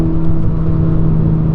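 Ferrari Roma fitted with a Supersprint X-pipe exhaust, a loud, close engine drone holding a steady low pitch for a short stretch without pause.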